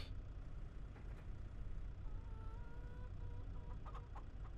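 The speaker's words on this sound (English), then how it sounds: "Without running over the chickens, of course." Chickens cluck faintly on a farm in the video game Farming Simulator 25, with scattered short clucks over a steady low engine-like rumble and no talking.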